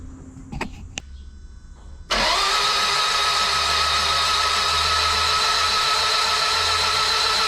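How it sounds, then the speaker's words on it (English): Toyota 5SGTE engine with a brand new turbo, cranking over on the starter with its spark plugs removed: after a couple of faint knocks, a loud, steady whir starts abruptly and runs on unbroken. "Right after taking the spark plugs out and giving it a crank, it's brought up really healthy oil pressure"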